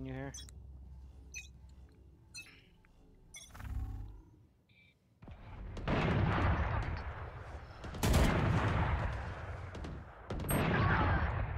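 Gunfire in a PC shooter video game, with a few sharp isolated shots early on, then dense loud bursts of rapid automatic fire in several waves, close and harsh.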